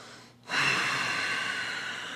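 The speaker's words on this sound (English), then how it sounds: "you do ujjayi breathing, or a breathing in which you restrict your throat, constrict it just a little bit, like you're trying to fog a mirror" A single long ujjayi breath drawn in through the nose with a constricted throat gives a steady, close, breathy hiss that swells quickly and then holds.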